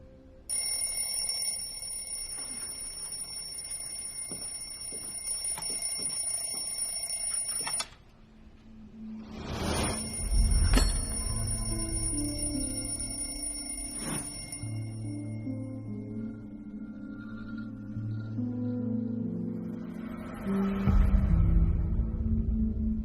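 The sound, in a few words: alarm clock ringing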